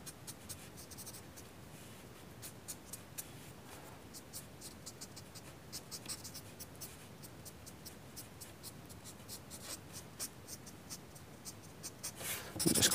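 Soft, close scratching and rubbing of a charcoal pencil blending and smoothing on paper, with repeated light strokes at low volume and no talking.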